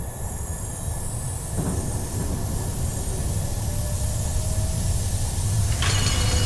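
A runaway train with sabotaged brakes in the video game Tales of Xillia 2 rumbles steadily with a broad roar and faint wheel squeal, loud and continuous, with no voices.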